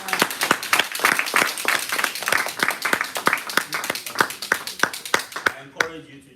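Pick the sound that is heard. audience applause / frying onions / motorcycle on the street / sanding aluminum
audience applause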